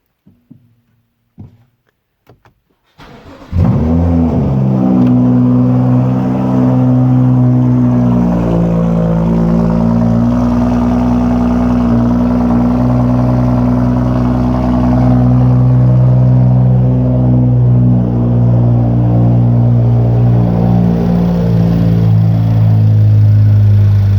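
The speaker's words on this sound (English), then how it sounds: "This will be first start. I have not done the tune on it yet. We're just going to do a cold start" A 2016 BMW 435i xDrive with a new exhaust and no tune yet cold-starts after a few seconds of quiet clicks: a loud starter catch and rev flare, then a deep, steady, throaty idle that holds close and loud.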